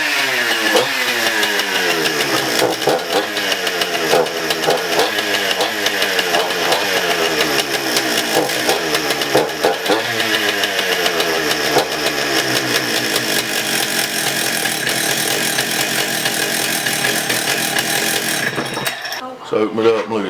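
Husqvarna 268 chainsaw engine, fresh from fuel line, coil and carburetor repair, firing loudly and close for about eighteen seconds with an uneven, sputtering rev before cutting out, then brief quieter sounds.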